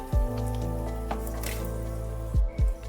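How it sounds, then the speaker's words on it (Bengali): Fried papad rolls with a paneer filling are lifted out of hot oil, giving a couple of close, soft wet squishes and drips over a steady low sizzle. "এবার তেল থেকে তুলে নিতে হবে। তোলার সময় তেলটা একটু ঝরিয়ে তুললে ভালো হয়।"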